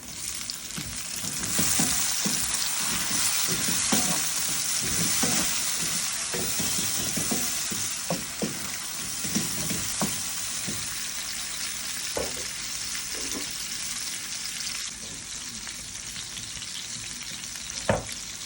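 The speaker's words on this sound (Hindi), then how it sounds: "प्याज हमारे फ्राई हो चुके हैं, हम इसमें टमाटर डाल देंगे।" Onions and tomato fry in a pan for lauki chana dal, a loud continuous sizzle with frequent stirring scrapes and utensil taps throughout.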